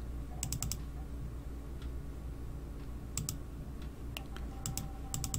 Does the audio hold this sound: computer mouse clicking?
yes